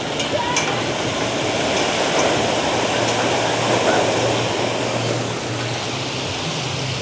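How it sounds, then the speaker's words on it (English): A steady, broad rush of falling water pours continuously as a large water park bucket tips and splashes down at Soaky Mountain Waterpark in Sevierville, Tennessee, with a faint low hum underneath. "Here comes the big water dump."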